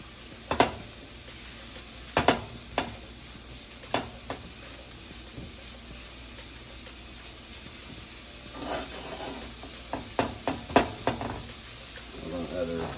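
Vegan Jamaican-style patty filling sizzles in a pan with a steady hiss, punctuated by sharp spoon knocks and scraping strokes in clusters near the start and toward the end; a voice is faintly present.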